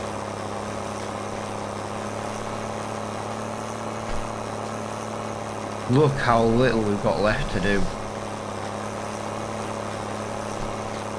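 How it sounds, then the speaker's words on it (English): A Farming Simulator 22 tractor engine idles steadily with a low, even drone throughout, while someone talks briefly over it midway. "We might as well take this tractor to the shop."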